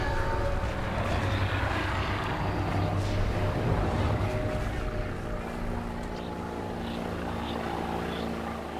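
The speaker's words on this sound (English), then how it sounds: "I heard a boat, and I was far from the river." A boat engine on a river, a steady droning motor hum that holds at a fairly constant level throughout, moderately distant and unbroken by voices.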